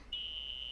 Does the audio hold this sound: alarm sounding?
yes